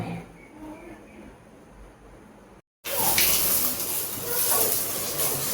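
Green chillies frying in hot oil in a pan for a Tulunadu-style chicken pulimunchi, a quiet stretch that cuts out briefly and then returns as a loud, steady sizzling hiss.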